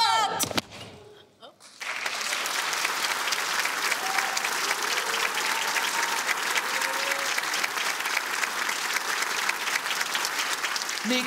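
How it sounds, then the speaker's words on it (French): A crowd at a university stage evening applauds a performing group, a loud sustained wash of clapping starting after a brief thump and quieter moment, with scattered cheers mixed in. "On peut encore les applaudir bien fort, le groupe numéro 16, Amina, Fatel et Amine."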